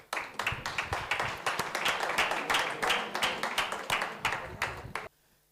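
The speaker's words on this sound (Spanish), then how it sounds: "Un aplauso." Audience at a book presentation breaks into applause, a fairly close patter of clapping hands with audible individual claps, rising quickly, holding for several seconds, then stopping abruptly into near silence.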